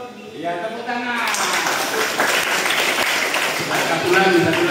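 Students on a study tour of SMA Negeri 9 Medan burst into applause after a voice, the clapping rising and holding as a dense, continuous patter of many hands, with talk beneath it.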